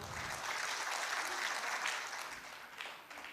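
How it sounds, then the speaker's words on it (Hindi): An audience applauds at a comedy poetry show, clapping steadily and evenly throughout at moderate loudness, with no voices over it. "ये सच्चाई है सर, ताली बजनी चाहिए"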